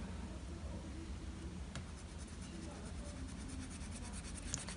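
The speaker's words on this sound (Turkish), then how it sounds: "Siyah kalemimle canavarımın ağzını çiziyorum." A black pen draws on paper in faint, soft scratching strokes, with a quiet background and no talking.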